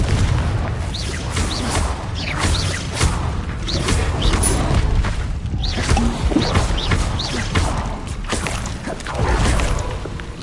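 Explosion spells such as Confringo and Bombarda cast in a Hogwarts video game, a dense run of booming bursts and magical whooshes layered over an action soundtrack.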